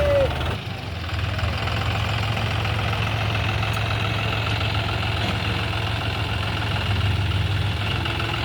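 A John Deere 5050 tractor engine idles steadily and close by, a constant low rumble with a slight knock that runs through the whole stretch with no break.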